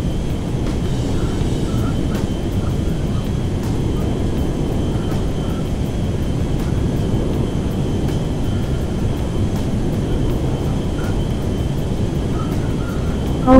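An airplane flies in GTA 5 heard from the cockpit, a steady, loud engine drone and rushing wind that holds constant throughout without a break.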